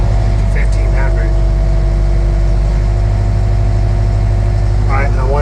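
A TYM T5075 tractor engine runs steadily at 1500 RPM, a constant close-up mechanical drone with low throbbing harmonics and no break, while a voice briefly speaks over it near the start and again at the end.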